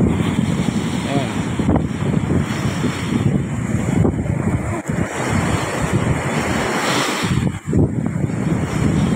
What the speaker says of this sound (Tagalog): Laki-laki talaga ang alon.